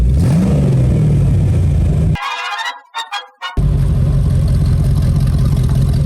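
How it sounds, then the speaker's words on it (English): A fake Lamborghini replica engine drones loudly up close. The sound cuts out briefly midway, leaving a few higher-pitched bursts, then the steady engine rumble comes back. "There you go, rev it right there."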